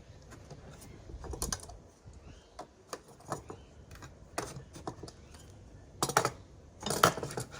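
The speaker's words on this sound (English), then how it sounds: "I'm going to tighten those nuts all down now and see how it works" Metal clinks and ratcheting clicks of a half-inch wrench snugging down M8 nuts on a DIY 4150-style carburetor work stand, arriving in irregular bursts with quiet gaps between, close and fairly faint.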